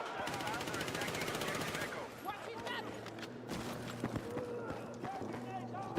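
Rapid automatic gunfire rattles steadily for about two seconds in Battlefield 6 gameplay, then scattered game sounds and a few sharper shots follow, with a player talking quietly over it.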